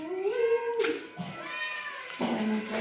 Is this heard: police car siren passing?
no